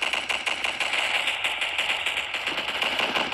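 Rapid automatic gunfire from a favorite weapon in the mobile shooter Pixel Strike 3D, a dense steady rattle of shots running continuously and fairly loud throughout.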